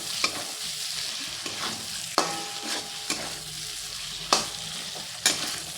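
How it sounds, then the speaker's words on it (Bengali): Capsicum frying in a pan while being stirred, a steady sizzle broken by several sharp scraping and tapping strokes of the utensil, close and clear with no talking. "ক্যাপসিকামটা দিয়ে একটু নাড়াচাড়া করে"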